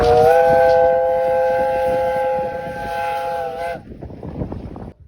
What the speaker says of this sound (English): see the famous Romney, Hythe and Dymchurch railway train come in